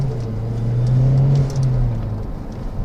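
Mazdaspeed3 turbocharged engine revving under boost from inside the car, a loud close engine drone that climbs and swells then eases back, with no talking.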